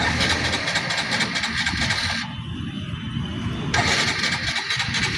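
A Hero motorbike engine with a long-standing starting problem runs steadily, cuts out briefly, then restarts and settles back into a rough, close idle.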